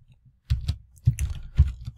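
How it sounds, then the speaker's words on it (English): Someone types a list of names on a computer keyboard, producing close, brisk bursts of clicking keystrokes in three quick clusters with short pauses between them. "Let's type in some more names."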